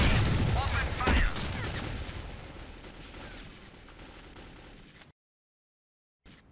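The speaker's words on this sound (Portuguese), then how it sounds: "All fighters. Let's clear a path for Lishi. Open fire" Gunfire rattles in the shooter game STALKER Clear Sky with the Arsenal Overhaul mod, loud bursts at the start that trail off into a quieter firefight, then a moment of complete silence before the sound briefly returns.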